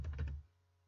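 A short burst of a few rapid computer keyboard keystrokes, close and crisp, then quickly fading to quiet room tone.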